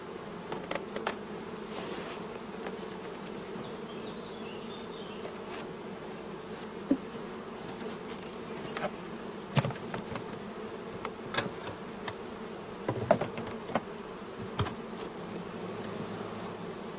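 Honeybees swarm around a small nucleus colony of brood frames, giving off a steady close buzz with occasional louder passes by individual bees.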